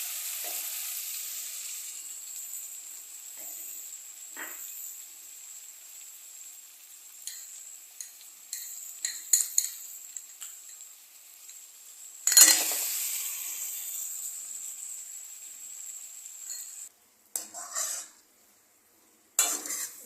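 Potatoes frying in a pan with a paste of turmeric, chili, cumin and coriander, a soft steady sizzle broken by sharp scrapes and clinks of stirring, close by with no voices.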